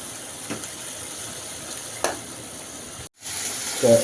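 Fig curry simmering in a pan gives a steady soft sizzle and bubbling hiss, close by, with a couple of faint stirring scrapes, a brief dropout of sound, then a slightly louder bubbling at the end.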